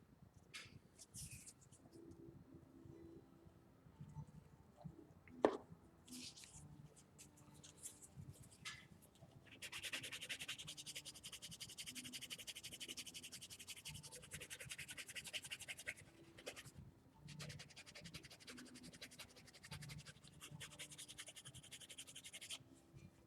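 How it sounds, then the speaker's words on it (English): Leather wallet edges rubbed with a piece of canvas, a steady hissing friction in long sustained bursts with a brief pause between, quiet and close. "I'll burnish those edges right quick"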